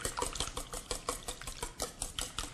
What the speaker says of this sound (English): Give it a quick whisk here.